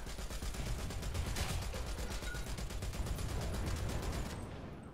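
Sustained, dense tank gunfire in War Thunder, a rapid rattling burst of repeated shots that stays loud and continuous throughout and tapers slightly at the end, with no voices.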